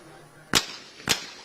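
Two sharp shotgun reports, about half a second apart, ring out from a reverse double at a junior world skeet shooting championship in Changwon, each a loud crack with a short decaying tail.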